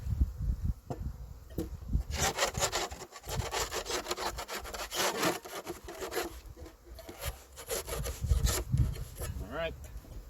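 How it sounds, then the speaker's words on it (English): Honeycomb is scraped off a wooden beehive frame in rapid rough strokes, a close, repeated rasping that runs for several seconds, with faint bee buzzing in the background. "I got a little bit of comb I want to scrape off here"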